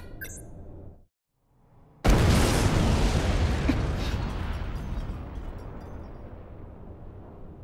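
A film's missile interception: a short burst of mechanical noise, a second of near silence, then a sudden loud boom that hits hard and rolls into a long, broad rumble slowly fading over several seconds, with no talking.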